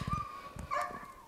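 A dog indoors gives a few short, faint yips and barks, quick and high-pitched, against a quiet room with a steady electronic whine.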